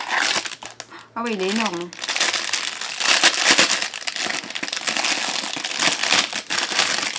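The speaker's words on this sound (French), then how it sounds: "je vais le déballer pour le découvrir en même temps que vous" Crinkly plastic wrapping is torn and scrunched open around a pink rabbit-shaped tea infuser with a carrot, a loud near rustle running almost continuously, with a brief high child-like voice and some speech early on.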